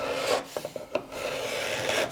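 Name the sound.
hand scraper taking fine shavings, scraping soft epoxy off wood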